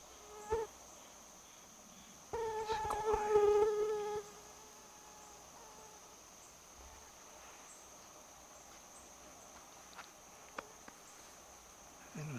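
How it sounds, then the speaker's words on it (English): Insects buzz in a swamp, one whining buzz swelling up close for a couple of seconds against a faint, continuous high chirring of other insects in the quiet background. "I think the mosquitoes are finding us already."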